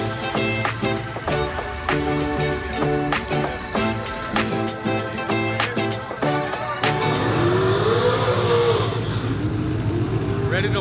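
A V8 street car engine at an Indy street car takeover test run rumbles loudly and steadily, with repeated revs and a rising pass near the end, all close and continuous.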